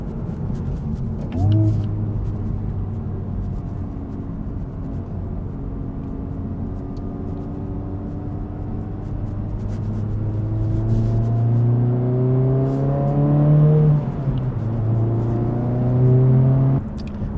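A 2023 Honda Civic Type R drives steadily, engine note climbing and dropping through gear changes with rising revs toward the end, close and continuous.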